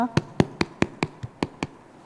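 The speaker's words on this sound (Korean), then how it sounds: "박수로 맞아주세요" Eight sharp, evenly spaced claps at a seniors' college gathering, rhythmic and close, like a group clapping together in time.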